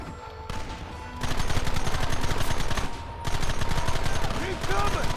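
Rapid, loud bursts of machine-gun fire from Red Dead Redemption rattle in two long volleys separated by a brief pause, with shouting voices mixed in.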